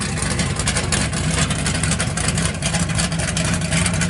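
A 1967 Pontiac GTO with headers, dual Flowmaster exhaust and open cutouts, its engine rumbling loudly and steadily at close range without any talk.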